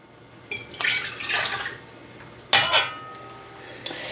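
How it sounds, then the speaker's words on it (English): Water splashes and trickles into a stand mixer bowl in two short pours while making marshmallows, with faint clinks of a vessel, close by and fairly loud. "we're gonna add half a cup of water to our mixer"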